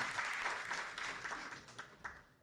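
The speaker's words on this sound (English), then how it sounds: "Please give them a round of applause" Steady applause from an audience at a housing ribbon cutting, a dense patter of many hands clapping that gradually fades toward the end, with no talking.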